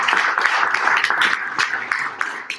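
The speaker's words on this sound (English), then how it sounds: "So give a round of applause for Maui." An audience at a Hawaii ecotourism association event applauds a Maui group, giving steady, dense clapping from many hands throughout, fairly loud and close, with no voices over it.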